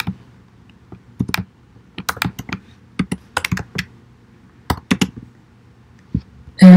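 Typing on a computer keyboard, close and clear, in irregular bursts of sharp key clicks separated by short pauses over a quiet background.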